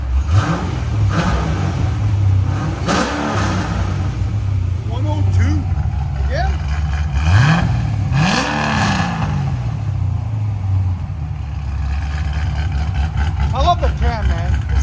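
Cammed Chevy Corvette Z06 with a 7.0L V8, long-tube headers and Valvtronic Designs exhaust, valves closed, idling with a deep loud rumble and then sharply revving up and falling back twice, close by, with faint voices in the background.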